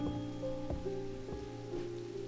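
Steady rain patters on surfaces in the video game Strange Antiquities, with a constant soft hiss and a few louder drops and taps over a low ambient hum.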